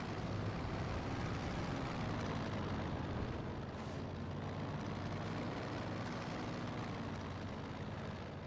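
Aircraft engines in Company of Heroes 2 hold a steady, loud broadband roar throughout the battle, with continuous rumble and no voices.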